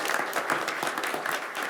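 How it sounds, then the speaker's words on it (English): A crowd claps steadily, a dense patter of many hands applauding for a couple of seconds. "We owe them a round of applause"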